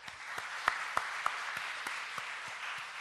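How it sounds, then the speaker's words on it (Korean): Congregation in a Korean church clapping during an afternoon praise service, a steady spread of applause with a few sharper individual claps standing out near the front, no voices over it. "우리 교사들 위해서 크게 한번 박수해 주시고"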